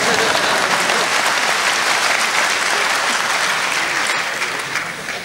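A large audience at an ITB graduation ceremony gives a sustained, dense round of applause that stays loud and even, easing slightly toward the end.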